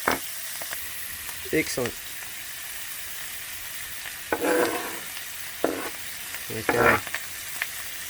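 Pork frying in a pot while being stirred, a soft steady sizzle with occasional scraping stirs, quiet and close, while people speak briefly.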